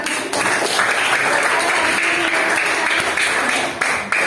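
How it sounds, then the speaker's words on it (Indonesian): Schoolchildren in a classroom applaud themselves after a group presentation, a dense, loud, continuous wash of clapping that holds steady throughout. "Boleh dong tepuk tangan untuk diri kalian dulu nih"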